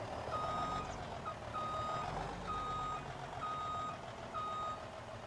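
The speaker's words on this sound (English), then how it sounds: "Get in the old International here. Back up to this trailer here." An old International tractor backs up to a trailer on a farm, its steady engine rumble running under evenly spaced reversing beeps that repeat about once a second, close and clear.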